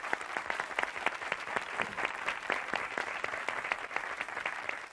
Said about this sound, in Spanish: ofrecerles un aplauso porque lo han hecho muy bien